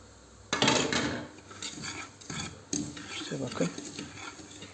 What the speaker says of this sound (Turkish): O zaman daha uzun süreli karıştırmaya devam edeceğiz.